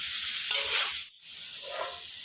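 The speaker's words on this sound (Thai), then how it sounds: "ผมผัดต่อนะครับ" Papaya and egg stir-fried in a pan give a steady close sizzle with scraping stirs, a brief pause, then more frying.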